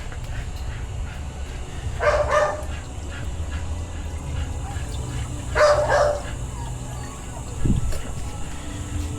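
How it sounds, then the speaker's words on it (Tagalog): Two or three short dog barks ring out at a distance over a steady background hum, spaced a few seconds apart. "Ingay ng aso namin."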